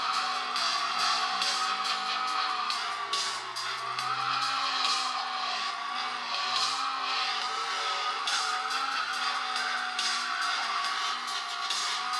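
Racing video game playing on a Meizu MX4 phone, with a continuous whining car engine, shifting revs and occasional tire squeal and skidding, steady and fairly loud throughout.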